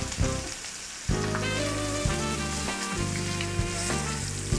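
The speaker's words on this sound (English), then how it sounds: "then you want to sear it and flip it over" Food searing in a hot pan, a loud crackling sizzle that swells sharply after a quieter start, with brief pops and spatters, overlaid by steady background music and no speech.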